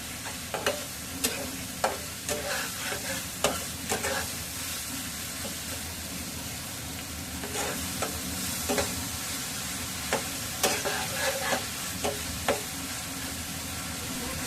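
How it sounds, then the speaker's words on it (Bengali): Pieces of liver frying in cooked spice paste for Bengali kalija bhuna give a steady loud sizzle and hiss, broken by frequent sharp scrapes and clacks of a spoon stirring in the pan, with no talk. "এবার ভালোভাবে নেড়ে চেড়ে কষে নেব"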